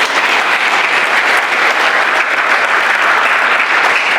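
A church congregation claps in sustained, dense applause filling a worship hall, a steady loud wash of many hands throughout with no pauses.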